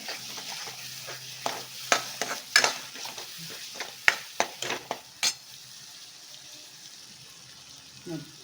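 Coriander powder masala for Andhra-style fish curry frying on medium flame while a spoon stirs it: a soft sizzle under a run of quick close scrapes and taps against the pan, which fade out to a quiet hiss.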